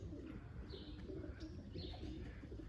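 Racing pigeons cooing softly in their loft, a few faint repeated coos and chirps over a steady low rumble of background noise, with no one speaking.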